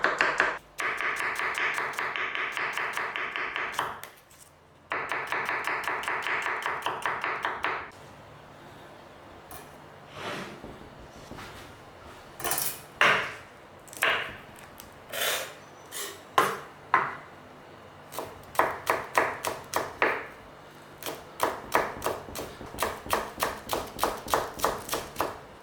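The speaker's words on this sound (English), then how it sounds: "we just need to thinly slice some onion." A knife thinly slices onion on a chopping board with fast, even taps in long runs, then slower scattered knocks and a final quick rhythmic stretch, close by.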